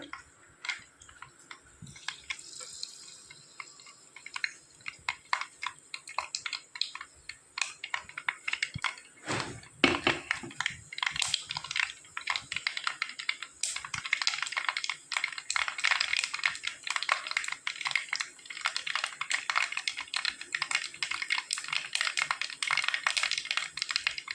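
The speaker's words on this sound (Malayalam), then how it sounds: "ഉലുവയും കടുകും പൊട്ടി വരുന്ന സമയം" Mustard and fenugreek seeds splutter in hot oil, a dense run of tiny crackling pops that grows busier and louder as it goes.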